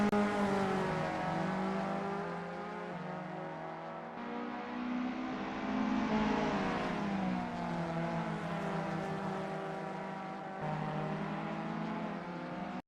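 VW Up Cup race cars lapping a circuit: a steady, loud engine drone with layered, shifting harmonics as revs rise and fall through gear changes, several cars droning together close by for the whole stretch.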